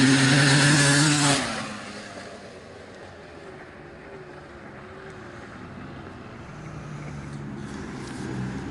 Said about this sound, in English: at an idle, I mean, you can hear the motor turning.